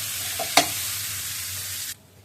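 Curry mixed in a hot pan gives a steady, close hiss of frying with one sharp scrape of the spatula early on, and the sizzle cuts off abruptly near the end, with no talk.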